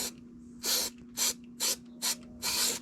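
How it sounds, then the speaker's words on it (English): White lithium grease sprayed from an aerosol can onto a bearing of a 2005 Kawasaki Brute Force 650 front differential: five short, close hissing bursts, the last slightly longer, over a faint steady hum. "Just give it a little spray around here."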